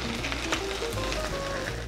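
Rice wine splashed into a hot wok of Chinese kale with preserved sausage, producing a steady, loud sizzle with a faint tonal hiss throughout.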